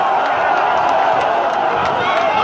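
A large crowd at a political rally in the Omnisports Stadium in Yaoundé roars and cheers, producing a dense, steady, loud wash of voices that holds without a break throughout.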